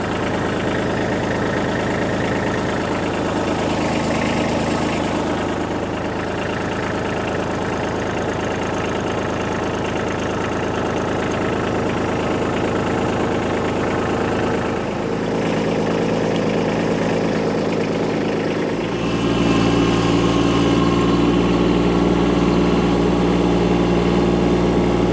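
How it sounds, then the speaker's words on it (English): Kubota B2601 compact tractor diesel settling into a steady, low rumbling idle, continuous and close, deepening and growing louder toward the end. "go get the Kubota fired up"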